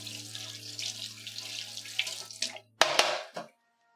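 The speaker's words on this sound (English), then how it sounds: "So, give this a quick rinse, just to make sure that it's not got any nasties on there." An item is rinsed under a running kitchen tap, with a steady stream of water splashing for a few seconds, then brief sharp bursts before the flow stops, close and alone.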